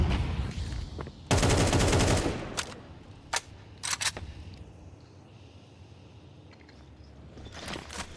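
Automatic rifle fire in a Counter-Strike match at a StarLadder Budapest Major game between MIBR and Imperial, a loud sustained burst followed by a few scattered single shots over quieter game ambience.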